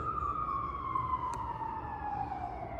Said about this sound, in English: I hope the sirens aren't too loud. You could probably hear that shit, huh?